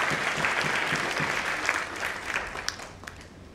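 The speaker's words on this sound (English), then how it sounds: "please give them a good round of applause." Conference audience applause rises in a hall, brisk steady clapping from many hands that thins toward the end, with a few individual claps standing out.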